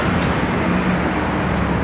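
Heavy road traffic roars on a river bridge in Bangkok, a dense, loud, continuous rumble of cars and buses passing close by.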